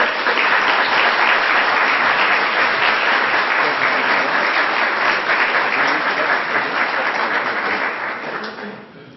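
Audience at a 2008 innovation summit applauding to welcome a speaker: a full, even wash of clapping at a steady level that tapers and fades out near the end.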